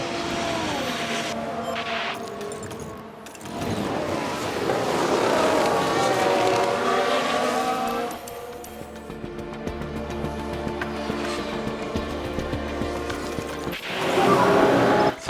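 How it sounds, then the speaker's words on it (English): An F1 car pits in F1 Manager 2023, with engine drone and mechanical whine shifting in pitch, then a burst of clattering pit-crew activity near the end over a continuous mechanical bed. "We are pitting. Yeah, copy. Box."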